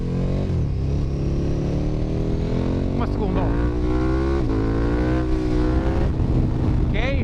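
A KTM 1290 GT motorcycle, freshly tuned and reprogrammed, revs loud and close with rising and falling engine pitch throughout, as excited voices talk over it.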